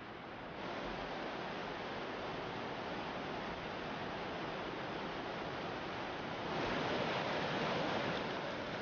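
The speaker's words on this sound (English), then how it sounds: "their next challenge is a flooded river" A flooded river rushes in a steady, loud broadband roar of churning water with no pauses, swelling slightly louder toward the end.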